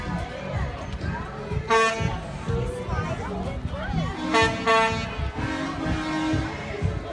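Truck horns honk at an outdoor touch-a-truck event for kids at UMass Dartmouth, sounding in several short toots and blasts spread through the clip over steady crowd chatter and people talking nearby.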